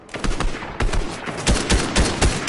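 Video game battle gunfire: loud, close bursts of rapid shots repeat in quick succession, with several heavy thumps spread across the stretch and no voices.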